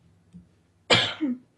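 A single harsh cough bursts out close by, followed by a brief throaty tail, with near silence before and after.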